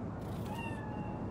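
A cat meows in the video game Cyberpunk 2077, a single drawn-out, faint call over a steady low background hum.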